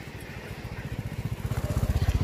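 A motorcycle ridden along a road in Arghakhanchi, its engine throbbing in a steady pulsing beat that swells louder as it approaches, heard alone without talk.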